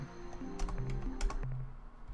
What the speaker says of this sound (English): I keep pressing spacebar to get away.